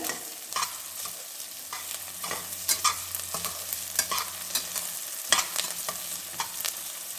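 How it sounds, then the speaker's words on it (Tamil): Onions sizzle steadily in hot oil for mutton biryani while a spoon scrapes and stirs the pan in irregular clicks and scrapes, close up, with a low hum underneath. "வெங்காயம் நல்லா வதக்கிடலாங்க எண்ணெயில்."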